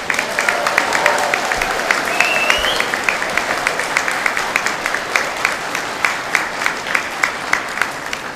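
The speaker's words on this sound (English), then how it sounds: "Let's give them a round of applause for their constant encouragement." Steady round of clapping from an audience at a Grade 12 graduation ceremony, sustained and fairly distant, with sharper individual claps standing out toward the end.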